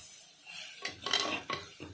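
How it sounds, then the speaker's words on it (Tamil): A spoon stirs and scrapes through sautéing ingredients for sama kizhangu kulambu in a pan, with a few distinct scraping strokes over a soft background sizzle, close and moderately quiet. "நல்லா வதக்கணும்."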